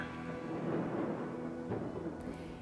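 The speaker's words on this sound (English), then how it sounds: "producing an explosive clap of thunder" A low, rumbling roll of thunder, broad and steady, with no sharp crack, sounding fairly distant.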